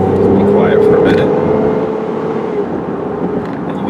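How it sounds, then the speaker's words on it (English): A 2003 Saturn Vue AWD with a V6 engine accelerates and shifts up through the gears. A steady, loud engine drone is heard from inside the cabin, with a rising tone that eases off as the engine settles. "you can see it just shifts nice and smooth up through the gears"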